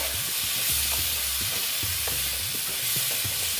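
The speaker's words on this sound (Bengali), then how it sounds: "দেখো আমি কষিয়ে নিচ্ছি আস্তে আস্তে" Pumpkin sautéing in a pan with panch phoron and green chilli for a vegetarian Bengali dish, with steady close sizzling and repeated scraping strokes of a spatula being stirred slowly through the mix.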